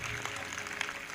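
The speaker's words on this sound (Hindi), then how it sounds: "इस वचन के लिए जोरदार ताली बजाएं" Church congregation applauding, a thick continuous patter of many hands, close and fairly loud, with a few sharper claps standing out.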